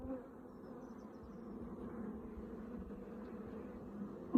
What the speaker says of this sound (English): Oh, nice dark bees.